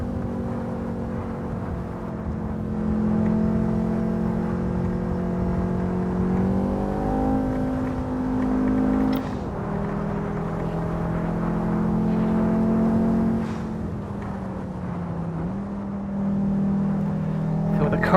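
In the Assetto Corsa driving game, a car engine runs smooth and loud, its tone climbing and falling through several gear changes, while a person talks in between.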